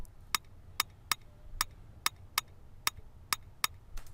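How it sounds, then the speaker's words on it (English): Sharp, dry rim clicks repeat in a steady, slightly syncopated pattern, about nine hits, crisp and close against a quiet background. "I have another percussion here, which is the rim, and this is what it sounds like"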